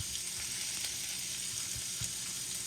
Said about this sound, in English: I'm gonna throw the tacos in here just to heat them up. And there's a little bit of oil right here.